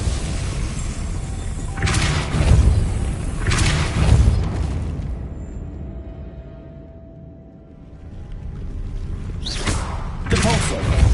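Depulso force spell impacts in Hogwarts Legacy: several loud booming thuds in bursts, a pair early, then a quieter lull with a faint tone, then two more blasts near the end.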